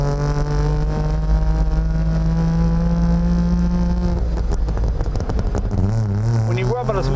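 A 1958 Saab 93B running without a muffler, its engine close and loud with a buzzy, rattling tone that holds steady before revving up and down unevenly.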